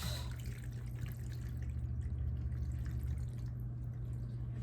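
Thick homemade pasta sauce glugs and drips softly as it is poured into a pan, over a steady low hum.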